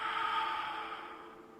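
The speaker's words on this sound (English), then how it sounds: "And breathe out." A slow exhale during a standing exercise routine: a soft breathy rush of air that gradually fades away, heard alone without talk.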